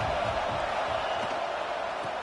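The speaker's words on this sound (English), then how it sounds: "Listen to the crowd energy here in the early going." Football stadium crowd at an Alabama versus Penn State game gives a steady, broad roar of cheering that fills the air with no breaks, sounding distant and massed.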